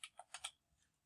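A few quick keystrokes tap on a computer keyboard, close and faint, in a short cluster of clicks followed by quiet.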